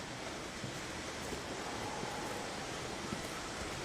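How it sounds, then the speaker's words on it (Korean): A waterfall in the survival game The Long Dark roars as a dense, constant rush of falling water, steady and fairly loud with no breaks and no voices. "뭔 폭포냐 이거?"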